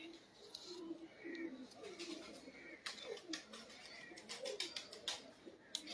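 Pigeons cooing in repeated soft, low rolling calls, close and fairly quiet, with sharp clicks and rustles scattered between them.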